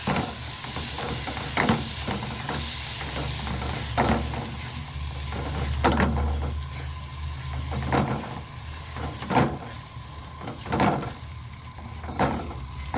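Peppers and tomatoes frying in a pan for shakshuka, a steady close sizzle and hiss punctuated by regular clinks and scrapes of stirring every second or two, with no talking.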